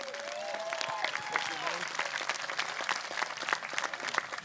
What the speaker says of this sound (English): I think we should all give them a big round of applause.